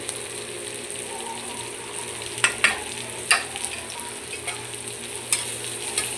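Ground spice paste sizzles in a hot pan alongside green chilies, a steady frying hiss broken by several clattering scrapes from stirring.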